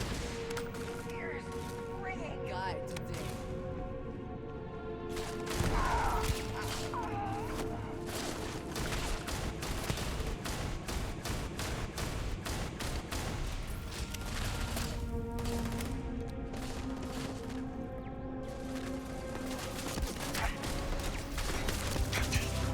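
Starfield combat gunfire rains toward the player, a dense, continuous stream of rapid shots and impacts for the whole stretch, layered over steady game music and effects, with a voice speaking now and then.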